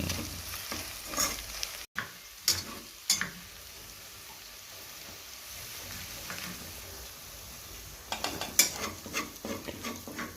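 Onions for tomato biryani fry in a pan while a spoon stirs them, a low continuous sizzle punctuated by sharp metallic scrapes and clinks, busier near the start and end.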